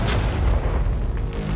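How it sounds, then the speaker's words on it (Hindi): A tank cannon fires at shipping containers: a heavy, booming blast with a deep rumbling tail, close and loud, with no talk over it. "ये 5 टैंक्स पैसों पर निशाना लगाकर 20 राउंड फायर करने वाले हैं।"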